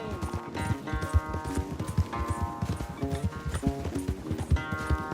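A horse galloping during a race in the Red Dead Redemption 2 video game, rapid rhythmic clip-clop hoofbeats pounding steadily and close throughout, with faint music or voices underneath.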